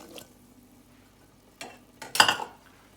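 A few brief scraping stirs as chopped regular onion and white kidney beans are mixed into a pot of beef tripe soup, the strongest scrape near the end, with near silence between strokes.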